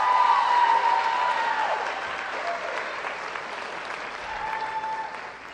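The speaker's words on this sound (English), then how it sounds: "Students, give your parents a round of applause" An auditorium audience at a high school graduation applauds, a broad, sustained wash of clapping that is fullest at the start and slowly tapers, with a faint voice or two underneath.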